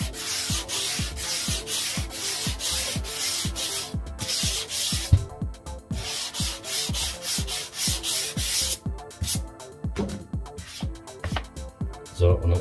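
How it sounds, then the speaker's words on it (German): A sanding block is rubbed by hand across a roof window frame in rapid back-and-forth strokes, a loud rhythmic scratchy rasp that pauses briefly and then resumes. "So, und dann ist das glatt geschliffen."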